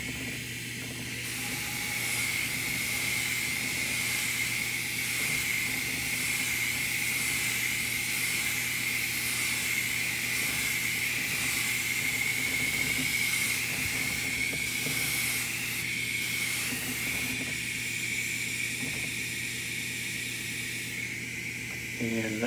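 An airbrush lightly mists GarageKiss Bronze Flesh paint onto a quarter-scale Aquaman figure, a steady airy hiss running continuously with slight fluctuations, fairly faint and close.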